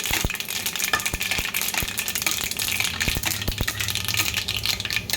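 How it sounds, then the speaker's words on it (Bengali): Mustard seeds and dry red chillies frying in hot oil, a dense crackling sizzle with sharp pops and spatters scattered throughout, close and fairly loud, with no voices. "সর্ষেটা একটু ফুটফুট করে ফুটতে শুরু করলে আমি তাতে দিয়ে দেবো শুকনো লঙ্কা।"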